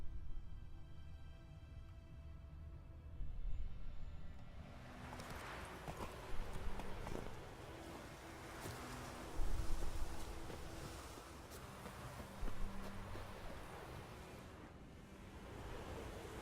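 Roach the horse gallops in Witcher 3: a rolling, rhythmic clatter of hooves comes in after a quiet opening and carries on under a steady rush of wind.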